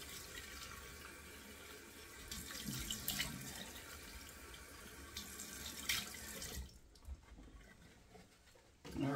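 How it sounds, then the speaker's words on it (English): Cold water runs from a bathroom sink faucet in a steady close hiss that rises and falls, then cuts off near the end and leaves quieter splashing. "So let's get the cold water running. In the sink, get that cold."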